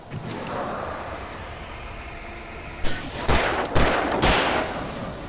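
Magnum gunfire against a mini boss in the Alan Wake video game: a rapid cluster of loud shots about two-thirds of the way in, over a constant rumbling game ambience.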